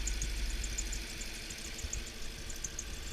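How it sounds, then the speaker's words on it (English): An Audi Q7 2007 V8 engine ticks over at a quiet, steady idle after a cold start, with a low rhythmic rumble and faint mechanical tapping heard from nearby. No one speaks. "Start it up"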